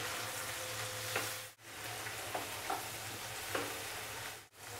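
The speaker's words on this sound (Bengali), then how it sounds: "দিয়ে 2 মিনিটের মতো আবার আমি ভেজে নেব পেঁয়াজের সঙ্গে" Onions and chopped tomatoes frying with turmeric in a pan, a continuous close sizzle with a few soft stirring scrapes, no talk.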